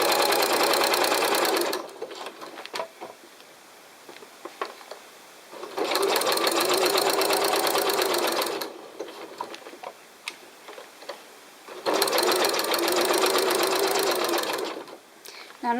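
A sewing machine stitches elastic held taut, giving three loud, rapid rattling runs of stitching separated by quieter pauses with faint handling sounds and a low voice between them.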